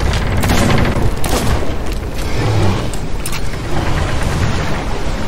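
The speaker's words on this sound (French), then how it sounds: "Moi je lui tire dessus." Gunfire aimed at another player in the pirate game Sea of Thieves, a run of loud booming shots and clattering reports over churning background noise, close and dense throughout.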